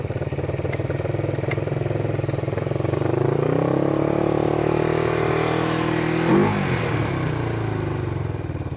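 A vintage Honda CB360 motorcycle engine runs roughly up close with a loud, uneven putter. Its idle wavers and surges, rising in pitch partway through before settling back.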